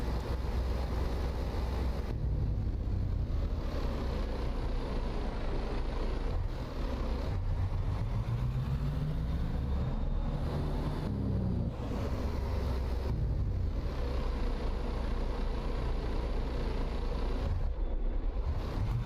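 A Peterbilt 387 truck engine idles in American Truck Simulator, hauling a Transcraft Eagle trailer, with a steady low rumble and a brief rising rev partway through, alone with no talk.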